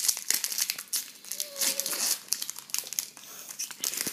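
A Pokémon XY booster pack wrapper is torn and crinkled open close up, giving a continuous bright crackling of foil with sharp tearing bursts and no voices.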